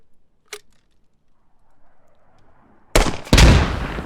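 A GP25 underbarrel grenade launcher fires in the video game Squad: a sharp single thump, then a quiet gap before two loud blasts land close together, the last trailing off in a rumbling decay.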